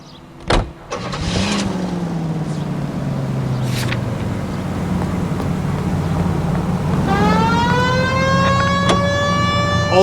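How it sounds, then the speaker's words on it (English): Police car siren in the LA Noire video game: an engine revs and idles under a rising, wailing siren that swells in loudly partway through, with no talk. "We have a siren."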